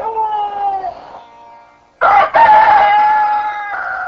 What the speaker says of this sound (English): cursed the crowing roosters